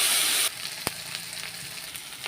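Water splashes into a pan of frying spice paste of turmeric, ginger, coriander, cumin and chili powder, giving a loud burst of hiss for half a second that drops to a softer steady sizzle with a sharp clack.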